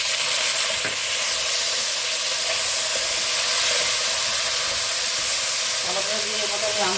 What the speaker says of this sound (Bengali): এবার আমি এর মধ্যে কেটে রাখা টমেটোটা দিয়ে দিচ্ছি